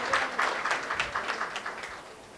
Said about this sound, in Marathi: एकदा जोरदार टाळ्या मयूरसाठी वाजवा सर्वांनी